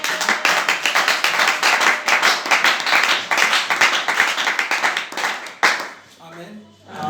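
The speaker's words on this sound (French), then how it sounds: "Nous pouvons applaudir pour la parole de Dieu." A church congregation claps steadily for the word of God, dense hand claps filling the room for several seconds before fading, with a few voices coming through near the end.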